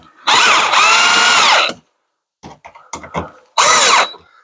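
A power tool tightening bolts on a carbon fiber splitter of a C7 car: two loud close whirring bursts, the first about a second and a half, the second shorter, with small clicks and handling knocks between.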